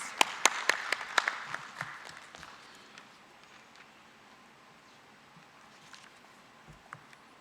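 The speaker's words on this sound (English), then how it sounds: "Can we give him a round of applause, please?" Audience applause at a live-streamed event in Tanzania, a few loud, sharp claps up front that quickly thin into scattered, fading clapping and then near quiet.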